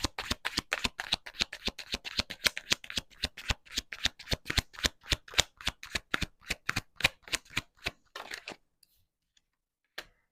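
Tarot cards are shuffled by hand in a quick, even run of crisp riffling snaps, close and loud, that slows and stops, followed by one last soft tap.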